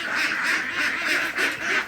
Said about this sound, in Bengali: চীনা হাঁস সহ দেশি হাঁস আছে প্রায় 100টার উপরে